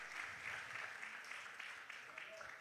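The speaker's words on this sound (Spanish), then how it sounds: "déselo un aplauso" A church congregation at a Spanish-language service applauds, producing a brief burst of dense, even clapping from many hands that fills the room at moderate level.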